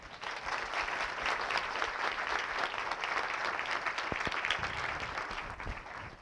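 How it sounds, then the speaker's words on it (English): An audience at a farewell lecture applauds for six seconds. The clapping is continuous and moderately loud, with a few sharper individual claps near the end. "Can I have a little applause, please?"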